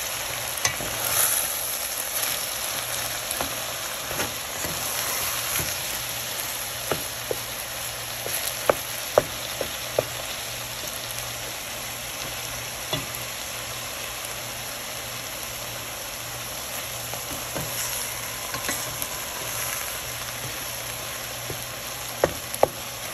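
Ground meat for picadillo browns in a pan with a steady close sizzle, broken by frequent clinks and scrapes of a spatula stirring, with no talk.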